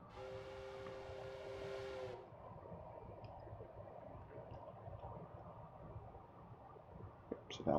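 In a video game, a train whistle sounds for about two seconds, then a quiet rolling rumble follows, with a couple of faint clanks near the end.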